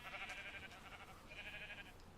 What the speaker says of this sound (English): sheep farm.